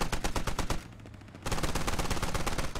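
Rapid automatic gunfire from the military shooter Squad rattles loudly at buildings in sustained bursts, breaking off for about half a second before resuming just as dense.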